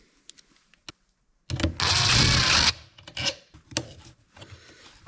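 Someone takes the muffler off a Poulan Super 25 DA chainsaw in a workshop. A close, loud burst of whirring, like a power driver spinning out a fastener, lasts about a second, with small scattered clicks and rattles of parts around it.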